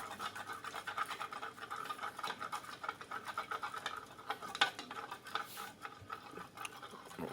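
Salt and vinegar being mixed together by hand, a soft, continuous scraping and swishing that rises and falls unevenly, close by and fairly quiet, with no one speaking.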